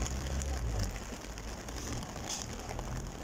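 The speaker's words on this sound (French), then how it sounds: "la pluie c'est vraiment déclenché comme vous le voyez" Rain pours down at an outdoor Thursday market in Nice, making a steady, dense patter on surfaces with occasional louder splashes, moderately close and without talk.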